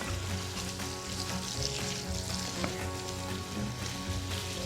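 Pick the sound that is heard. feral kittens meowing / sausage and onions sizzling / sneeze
sausage and onions sizzling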